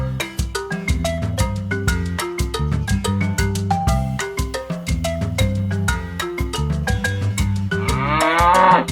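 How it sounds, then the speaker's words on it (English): A cow moos once near the end, a drawn-out, wavering low call that rises over a steady, bouncy musical backing playing the whole time. "Cow."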